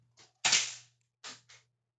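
A Nerf Elite Commander foam blaster is primed and fired: a soft click, one loud sharp snap, then two shorter clacks close by, with no talking.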